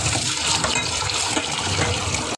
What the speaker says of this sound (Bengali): আমার গুগলি প্রায় ধোয়া হয়ে গেছে